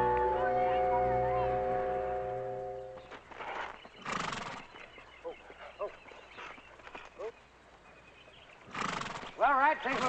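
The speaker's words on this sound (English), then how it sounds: "Beautiful horse." A horse whinnies and its hooves clip-clop amid a 1960s film scene, heard under music and people talking at moderate distance.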